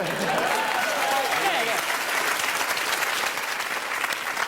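Audience applause for a performer slicing up a Lebanese cucumber with a sword during a TV sideshow act, steady dense clapping filling the whole span with a voice briefly audible early on.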